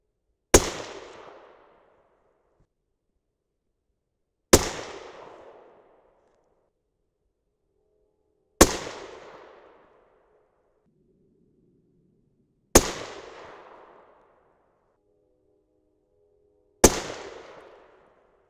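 A 6.5 Creedmoor rifle fires 130gr Sierra Game King loads with RL17 and W760 powder: five single sharp shots spaced about four seconds apart, each loud crack followed by a short decaying echo.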